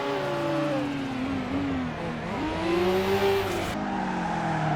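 Race cars, among them a light, powerful Mazda RX-7, roar around the Tsukuba circuit, engines revving loud and steady with rising and falling pitch as they power through corners and shift gears.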